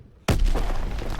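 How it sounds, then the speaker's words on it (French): A grenade explodes in Call of Duty's Liberation of Paris level: one sudden, loud boom after a short quiet, followed by a sustained, rumbling roar that fills the rest of the moment. "Je lance une grenade!"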